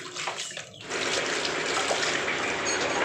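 Water is poured over a car's outer CV joint during repair, a steady splashing gush that starts after a brief softer trickle and continues evenly at close range.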